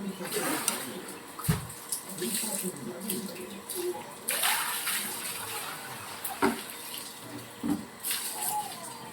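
Water poured over the body during a home bath, with splashes and scooped pours landing irregularly at close range, loud bursts standing out against steady running water.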